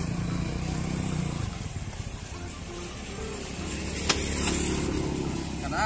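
A motorcycle rides along with a steady engine drone and road rumble, fairly loud and continuous, with a brief sharp knock partway through.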